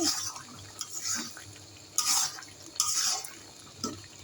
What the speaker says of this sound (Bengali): দিয়ে একটু মিশিয়ে দিচ্ছি